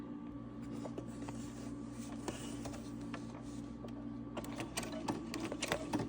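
A sewing machine stitches through a paper plate with a steady, close mechanical whir and fast ticking that runs continuously, growing a little busier toward the end.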